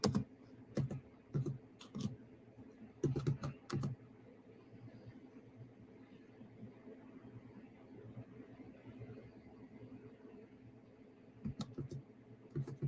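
Bursts of typing on a computer keyboard, quiet clusters of clicks near the start and again at the end, with a low room hum between.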